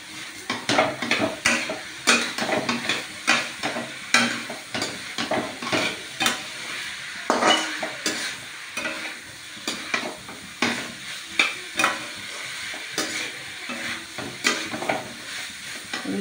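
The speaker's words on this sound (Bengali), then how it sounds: "এটাকে আমি ভালো করে নাড়া দেবো।" Boiled fig and potato pieces stirred in hot oil in a wok, a spatula scraping and clanking steadily against the metal over a constant loud sizzle, no voices.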